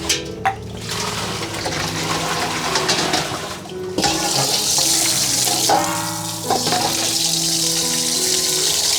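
Vegetables for sinigang rinsed under a running kitchen tap, a steady splashing water stream with short breaks and gurgles, close and fairly loud, with no talking.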